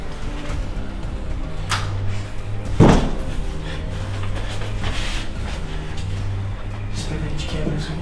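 Someone pulls open a drawer in a house and rummages through it. It gives one short, sharp scrape and knock under people talking.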